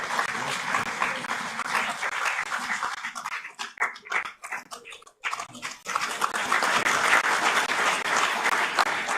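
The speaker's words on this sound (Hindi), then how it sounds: "कृपया जोरदार तालियों से इस अभिनंदन के भागीदार बने।" An audience at a World Food Safety Day celebration claps in sustained, dense applause that thins into scattered claps midway, then swells back to full strength.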